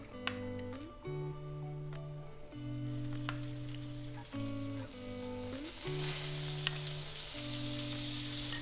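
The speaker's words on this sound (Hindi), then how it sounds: "ये ऑयल के साथ ही इसमें मैं 2 चम्मच मक्खन डाल रही हूँ।" Butter melting into hot oil in a cooking pot for butter chicken gravy gives a steady, soft sizzle throughout, partly masked by sustained background music tones.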